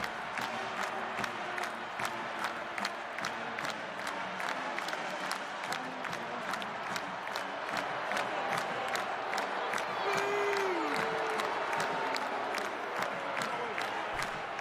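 A large stadium crowd at a college football halftime marching band show roars continuously and loudly throughout, with booing and shouting blended into the dense crowd noise.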